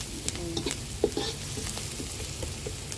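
Chicken adobo fries in a pan with a low steady sizzle, punctuated by scattered stirring clicks and scrapes, close by and without speech.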